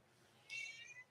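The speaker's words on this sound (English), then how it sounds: "His little meow." A cat gives one short, soft meow, a brief high-pitched call heard alone over quiet background hiss.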